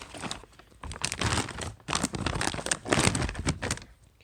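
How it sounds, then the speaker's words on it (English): Plastic wrapping crinkles and crackles loudly up close in bursts as a carbon fiber Tamiya TT-01 chassis is pulled out of it. "I'm going to go ahead and pull it out of the plastic."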